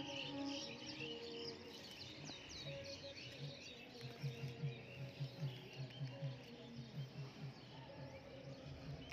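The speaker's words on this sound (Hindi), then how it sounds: "सुबह सुबह चिड़िया की चहचहाहट का नज़ारा ही कुछ और लगता है।" Birds chirp and tweet in the morning in Ranchi, a faint, busy dawn chorus of overlapping calls with a steady run of soft repeated notes in the second half, distant and with no talk.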